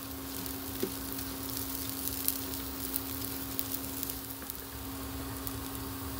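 Rice fries in a pan as chiles are stirred in, giving a soft, continuous sizzle with faint scraping ticks over a low steady hum.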